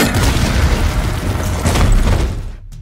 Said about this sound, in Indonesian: mereka menginjak jebakan bom